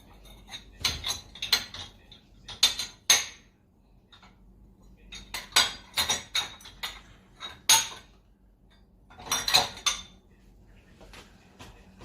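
Cutlery and dishes clink and clatter in several separate bursts as they are arranged in a dish rack, with quiet gaps between, close by and fairly loud.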